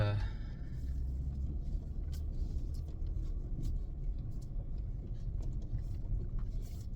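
A truck on a short drive through a small Appalachian hometown gives a steady, close interior rumble of engine and road noise that runs unbroken throughout.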